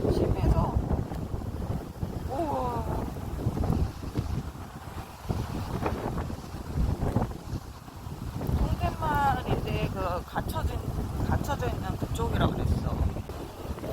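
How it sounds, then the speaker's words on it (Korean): Strong seaside wind buffets the microphone in a constant rough roar, with people talking and exclaiming over it throughout. "바람, 바람이 진짜 너무 심해."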